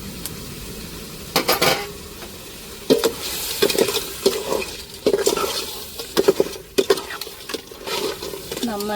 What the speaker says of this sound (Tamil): நல்லா பிரியாணி மசாலா கலந்து விட்டாச்சு